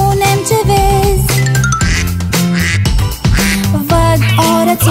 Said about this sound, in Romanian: Văd o rățușcă. Mac, mac, mac.